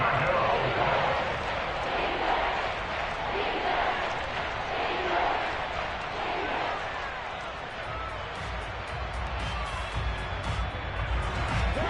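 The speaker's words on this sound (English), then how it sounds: "the crowd getting into it as we come up on a big third down" Crowd noise from an American football video game swells steadily across a big third down, a dense continuous roar with no breaks, loud and sustained, with some faint commentary-like voices mixed underneath.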